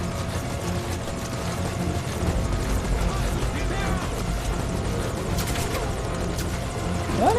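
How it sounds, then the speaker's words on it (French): Helicopter arriving in Metal Gear Solid V: Ground Zeroes, a steady loud rotor drone with whooshing thumps throughout, under in-game effects and a player's voice. "L'hélico il est là maintenant."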